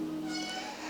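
A scared rescue cat, stressed after being transported, lets out a single drawn-out meow, close and fairly clear, that fills the whole moment.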